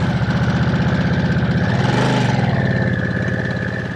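A Harley-Davidson Nightster motorcycle engine runs steadily and loudly up close, a continuous throbbing drone that rises slightly in pitch midway, with no one talking.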